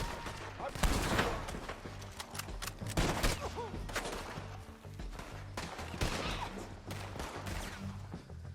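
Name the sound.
gunfire in the video game Red Dead Redemption 2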